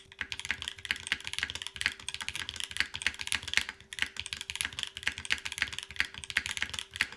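Steady typing on an Eden R2 custom mechanical keyboard in top mount with milky yellow switches, a close, soft run of quick clacky keystrokes with deeper thocks, no voices.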